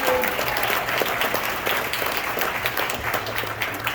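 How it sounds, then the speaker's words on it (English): Crowd applause at a big band concert, steady, fairly even clapping from an audience heard at moderate distance, sustained throughout with a faint background murmur. "Give her a nice round of applause."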